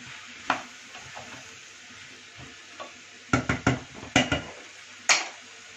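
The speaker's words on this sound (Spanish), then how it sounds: "voy a añadir el calabacín y la patata. Le voy a dar un par de vueltecitas" Diced zucchini and potato sizzle softly in a hot pot while being stirred, with a series of sharp scraping knocks from the utensil against the pot bunched toward the end.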